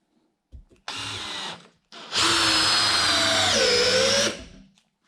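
A DeWalt DCD708 20V brushless compact drill driving a 3-inch screw into wood: a brief whir, a pause, then a loud sustained whine that drops in pitch as the screw seats, ending abruptly.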